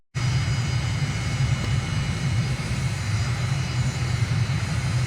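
Aircraft engines run at a steady idle at Incheon International Airport in Microsoft Flight Simulator, a loud, unbroken drone with a low rumble beneath a constant whine, starting abruptly and holding even throughout.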